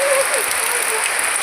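Heavy rain falls on a Diwali evening as a dense, steady hiss that fills the whole short stretch, with a faint brief tone near the start.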